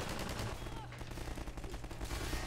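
Rapid gunfire in Half-Life 2, a dense burst of automatic shots rattling close and loud for a couple of seconds.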